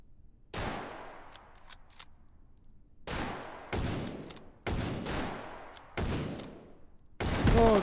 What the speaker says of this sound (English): you see those shotgun rounds go right by my fucking head?